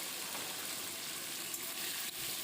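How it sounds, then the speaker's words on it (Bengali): Potatoes frying in hot oil with salt and turmeric, a dense continuous sizzle heard up close with no talking, broken only by a couple of faint pan taps. "এবার এটাকে আমি লবণ হলুদ দিয়ে বেশ ভালো করে কড়া করে লাল করে ভেজে নেব"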